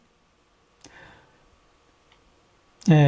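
A computer mouse gives a few soft, isolated clicks in a quiet room while an image is exported as a JPG in photo-editing software. A voice starts up right after the last click.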